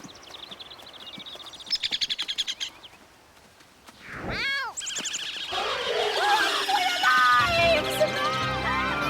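Birds chirp and call in a busy, overlapping chorus, starting with sparse rapid trills and swelling into a loud, dense flock of tweets and squawks nearby.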